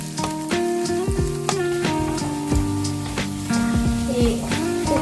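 Crushed ginger and garlic sautéing in a pan for a Bengali fish curry, a steady close sizzle and frying crackle with a few clinks of stirring, no talking.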